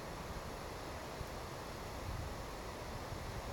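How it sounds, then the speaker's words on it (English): A steady, broadband rush of wind fills an outdoor park scene, constant and fairly quiet, with faint buffeting and no voices. "It's a windy day today, very windy."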